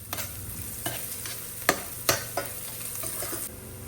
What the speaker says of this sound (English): Sprinkle some salt and turmeric and saute them until the onions turns into golden brown.